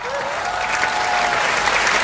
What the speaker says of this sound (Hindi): डॉक्टर फैसल जरा ढंग से ताली बजाइए आप